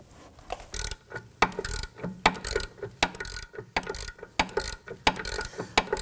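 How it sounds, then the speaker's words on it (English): A ratchet with a deep socket works on 19mm caliper bolts on a 2015-2024 Nissan Murano, giving a close series of sharp clicking bursts in an uneven rhythm, with short pauses between strokes and no voices. "I'm going to use a deep socket in my ratchet to go ahead and get up and around this."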